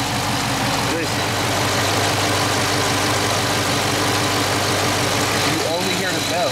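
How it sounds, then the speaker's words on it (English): A Dodge Charger 392 V8 idles with a loud, steady rumble and a faint whine, a couple of short knocks or handling sounds breaking in briefly. "that's what a normal 392 engine should sound like"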